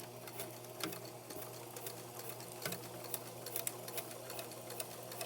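A sewing machine runs steadily while stitching a fabric face mask, its motor whirring with a quick mechanical patter of needle strokes, close and moderately quiet, with no talk over it.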